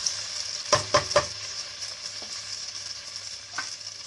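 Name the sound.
stirring Manchurian mixture with vinegar in a pan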